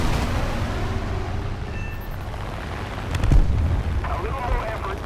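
A tank blows apart in War Thunder, a deep rumbling blast rising near the middle over constant engine and battle noise, with a voice talking over the low din.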